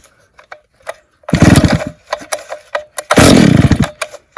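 A vintage Stihl 08s two-stroke chainsaw with no primer sputters and briefly catches twice after pulls on the starter cord, loud and close, with rattling between attempts.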